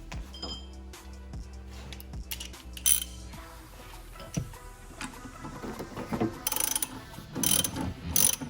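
Ratchet wrench with a 14 mm socket tightening a coilover nut onto the strut of an EG Honda Civic, several bursts of rapid clicking ratchet strokes with metallic clinks between them, close up and without talk.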